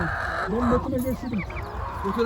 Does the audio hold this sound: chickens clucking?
yes